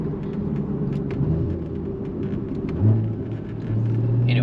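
A Porsche Cayman GTS driving around town, its engine a low steady rumble from inside the cabin with slight rises in revs and a brief surge near the end, no talking.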